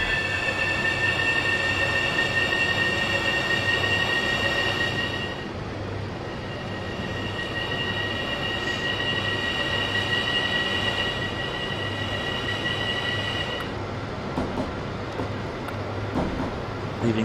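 An OEBB 4023 electric train on the Semmeringbahn in Train Simulator 2016 rolls along with a steady loud rumble and sustained high whining tones that shift and drop out partway through.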